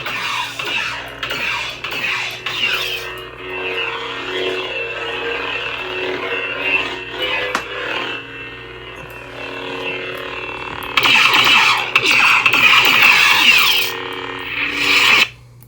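A low electric lightsaber hum from a Proffie-board saber with crackling, swishing energy and buzzing sweeps that swell louder near the end before cutting out.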